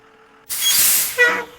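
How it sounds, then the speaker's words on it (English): A bus lets out a sharp, loud hiss of air brakes lasting about a second after a quiet lead-in, followed by a shorter second burst of hiss. "Alex waits for the bus."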